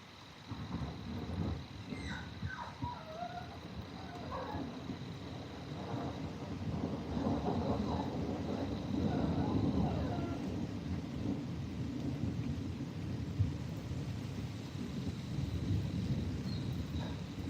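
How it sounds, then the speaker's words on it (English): Thunder rolls and rumbles through a storm with steady rain, heard through an open door during a possible tornado outbreak in Tennessee and Kentucky, a long low rumble that swells midway and stays fairly distant. "Could you hear that thunder now with the door open?"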